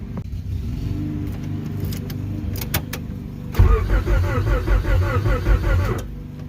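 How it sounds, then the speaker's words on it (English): A car engine, a built turbocharged B20 VTEC, cranks with a steady, rapid starter churn, loud and close, after a few clicks and a short quieter stretch. "I'm going to actually crank the car so you guys can actually hear how the car sounds"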